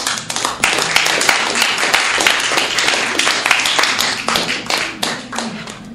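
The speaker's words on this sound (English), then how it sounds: "One more round of applause." A crowd at a developers' meetup applauds steadily, many hands clapping in a dense wash that fades slightly at the end.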